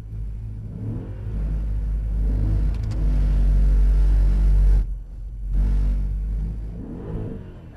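A Mercedes-AMG on a driving experience track accelerates under throttle, with a steady rising engine rumble, a brief lift off the throttle, and then the engine pulling again, heard from inside the car.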